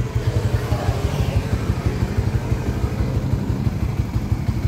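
A motorcycle engine idles close by, steady pulsing low thrum holding an even rhythm throughout, with no talk over it.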